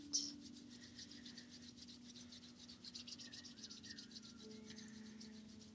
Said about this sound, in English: bringing the palms of your hands together, rubbing them back and forth, creating friction, creating heat